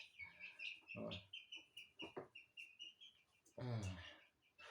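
High, thin cheeping from small chicks repeats in quick bursts, with a few lower clucks and some nearby movement mixed in.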